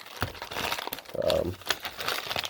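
A plastic bag crinkles as a box of car parts for a Honda Civic build is unpacked: a short, close burst of crackly rustling with a few sharp clicks, and faint voice sounds nearby.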